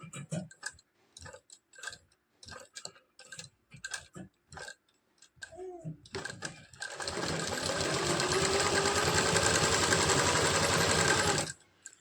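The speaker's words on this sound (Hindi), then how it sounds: "अब देखिएगा यहाँ पर मैं सिलाई लगा लेती हूँ" A sewing machine stitches a blouse sleeve, running in one steady, close mechanical whir for several seconds after a stretch of talking and a few short clicks.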